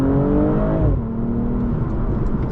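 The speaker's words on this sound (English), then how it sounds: "You do get like the odd sort of crackle as well that comes through." A BMW M240i (G42) accelerates hard with a loud, close engine and exhaust note that climbs in pitch, then drops sharply at a gear change near the one-second mark before pulling again.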